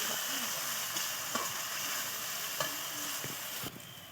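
Turmeric, chili and cumin powders fry in hot oil for a silver carp fish curry, giving a soft continuous sizzle with occasional light scrapes and taps of a spoon against the pan.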